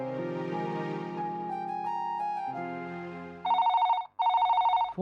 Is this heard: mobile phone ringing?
yes